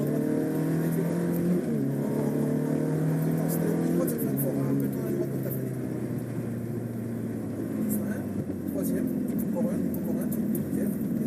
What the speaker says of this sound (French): Allez, on accélère de plus en plus fort